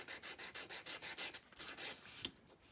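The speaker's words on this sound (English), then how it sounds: "sand that off. I might just sand a little on the bottom." Hand sanding along the edge of a junk journal cover, a quick rhythmic series of close, soft rasping strokes, about a dozen back-and-forth rubs, with no talking.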